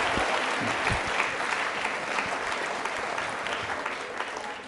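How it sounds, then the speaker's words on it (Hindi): Audience at a school quiz show gives a steady, lively round of applause, many hands clapping together for several seconds. "तालियां बजाइए जोरों से इनके लिए आप।"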